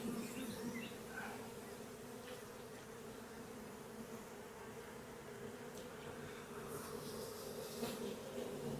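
A honey bee colony hums steadily at the hive after being moved from a log, a faint, continuous droning buzz with occasional louder passes of single bees near the listener.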